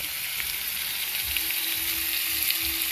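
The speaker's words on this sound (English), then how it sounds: "You want it to sear." Chicken searing in a hot pan gives a steady, close, bright sizzle with faint stirring scrapes underneath, continuous throughout.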